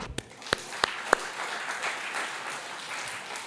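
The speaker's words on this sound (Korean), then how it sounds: "박수 한번." A church congregation gives a short round of applause during a Sunday service, opening with a few sharp separate claps that blend into a brief, soft burst of clapping.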